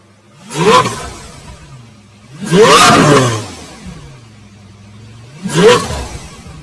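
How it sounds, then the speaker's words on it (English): A Lamborghini Veneno Roadster engine revs loudly three times, each throaty burst swelling and then dropping back to a low idle rumble between pulses, heard close up with no talking. "This car is very loud."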